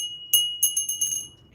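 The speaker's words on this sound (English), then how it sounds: "And this crystal bell" A crystal bell made in West Germany rings several times in quick succession, each strike a clear, high, glassy tone that decays into a lingering shimmer.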